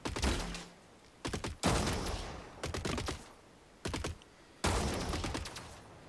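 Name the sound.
machine gun fire in video game Gladiabots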